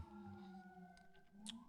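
A police siren wails outdoors in New York City, a faint, distant wavering tone with drifting pitch that carries over quiet background for under two seconds.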